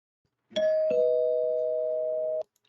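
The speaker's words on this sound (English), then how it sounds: "So I'm going to ring the bell real quick." A bell rung once as a spoiler warning, a clear ding-dong: two quick struck onsets followed by a long sustained pure tone that holds for about two seconds before cutting off, close and alone.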